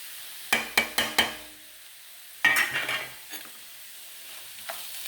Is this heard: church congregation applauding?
no